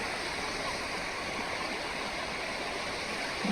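Sea waves wash steadily onto a sandy beach at Alibaug, a dense, constant rushing surge of water filling the air without pause and no clear voices.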